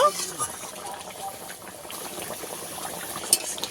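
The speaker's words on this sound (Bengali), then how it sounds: "এবার মাছগুলোকে ভালো করে ঝোলের মধ্যে দিয়ে ফুটিয়ে নেব" Fried pomfret fish simmering in a spicy curry gravy, with a soft bubbling boil close by under a person speaking.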